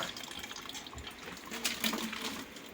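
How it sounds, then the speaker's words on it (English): Water poured into a pot of zobo (hibiscus leaf) drink makes a steady, moderately close trickling and splashing wash with brief brighter splashes, alone and without talk. "I'll still be adding water inside this pot"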